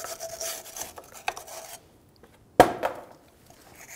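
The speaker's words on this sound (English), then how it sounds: "you want to take a wire brush and clean this whole back surface" A wire brush scrubs the rear drum-brake backing plate of a 1997-2006 Jeep Wrangler, a close raspy scraping for nearly two seconds, then a pause and a single sharp metallic knock with a brief ringing tail.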